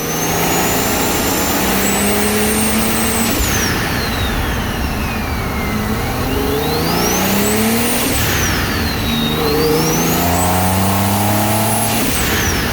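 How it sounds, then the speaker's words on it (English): A turbocharged all-wheel-drive Toyota Camry with a T51R turbo revs loudly and repeatedly, its turbo whistle climbing and falling over a dense engine roar throughout. "And here's the sound of the new turbo."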